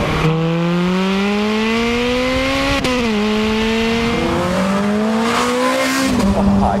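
A Ferrari 430 Scuderia V8 with its exhaust valves open roars loud and close. The pitch rises under load, then drops sharply with downshifts and rises again.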